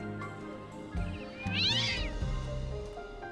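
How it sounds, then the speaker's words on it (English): A cat meows in The Talos Principle II game, a single drawn-out, rising and falling cry at close range over a low, steady ambient game hum. "Great, now I scared off a black cat and a white cat."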